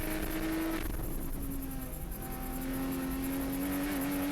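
A 2015 Porsche Cayman S engine pulls hard at full throttle on the Chuckwalla circuit, a loud, steady in-car drone with a rising engine note and a brief dip under braking before climbing again.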